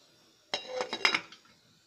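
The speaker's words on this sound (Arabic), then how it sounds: "هقلب كويس وهغطي على المية بتاعتي لحد ما تغلي كويس" Metal spoon clinking against a pot of salted water being stirred and then covered with its lid, a short burst of close clinks and scrapes lasting about a second.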